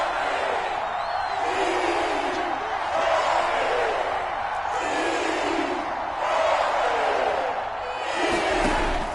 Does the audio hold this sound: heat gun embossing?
no